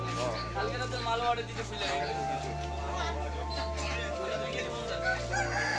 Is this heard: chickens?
yes